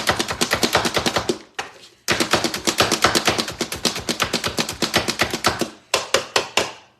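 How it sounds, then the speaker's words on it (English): A vegetable chopper chops an onion on a colored mat or cutting board: rapid, crisp, evenly spaced chops in loud bursts, broken by two short pauses. "chopper is one of the biggest time savers around when you're dealing with chopping up vegetables"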